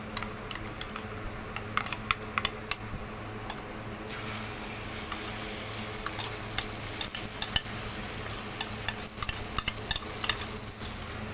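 Beaten egg with ghee spreads across a hot tava for egg paratha, giving a steady sizzle with many small sharp clicks and scrapes; the sizzle grows brighter partway through. No voices.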